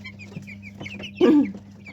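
Young broiler chicks cluck and cheep in short, soft calls, with one louder cluck in the middle against a low background hum.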